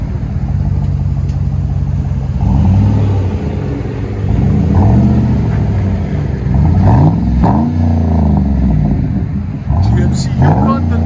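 Cabin of a 2012 GMC Yukon Denali with a 6.0L V8 and Flowmaster Flow FX exhaust, a deep engine drone rising and falling through repeated revs, with people talking over the rumble.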